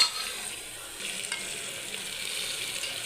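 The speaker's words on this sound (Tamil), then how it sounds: "வெங்காயம் போட்டு நல்லா ஃப்ரை பண்ணிக்கலாம்." Onions for prawn biryani sizzle in a pan, a close, even hiss with a faint stirring scrape partway through.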